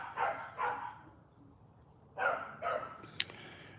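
Dogs in the Philippines barking: two pairs of sharp barks, a close pair at the start and another after a short pause, with a quick high yip near the end, no talk over them.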